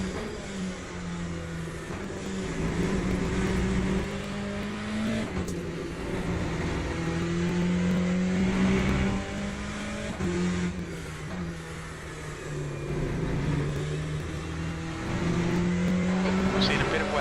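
Race car engines in the sim racing game Le Mans Ultimate drone steadily, their pitch rising and falling through gear changes as another car runs close behind; the engine noise is continuous and fairly loud throughout, with a voice talking over it.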